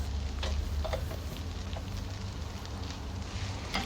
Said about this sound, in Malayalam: അതിൻ്റെ പച്ചമണം മാറുന്നവരെ നന്നായിട്ട് സോട്ട് ചെയ്യുക